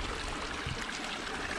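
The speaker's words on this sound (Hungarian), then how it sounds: "Patak átkelés." A stream in the Austrian mountains near Sünser See rushes and trickles steadily at a crossing, a close, continuous broadband wash of flowing water with no voices.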